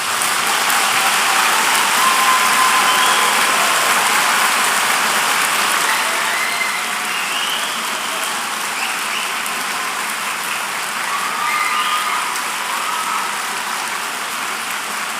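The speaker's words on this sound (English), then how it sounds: "what would be good if we could give those graduating students a round of applause for their great" A large audience applauds graduating students at a university graduation ceremony, with dense, steady clapping that fills the hall for the whole stretch and eases slightly in loudness toward the end.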